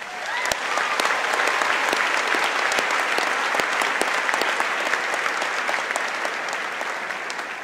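Sustained applause from a large graduation audience at Hermiston High School's class of 2017 ceremony, a dense, steady wash of clapping filling the whole stretch at even loudness, with no voices rising above it.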